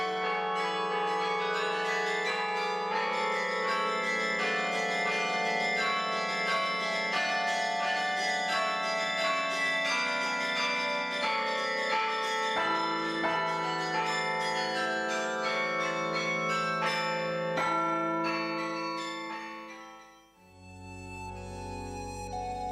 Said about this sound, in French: Avec ses 61 cloches, ce carillon fait partie des plus importants carillons de France.